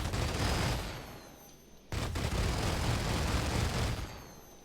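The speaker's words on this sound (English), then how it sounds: "So you can see the ballistics firing off there." Ballistic cannons on an Aegis Vanguard Sentinel fighter in Star Citizen fire in dense continuous bursts, a loud rumbling barrage that eases, breaks briefly, then resumes before tapering off, with no talk.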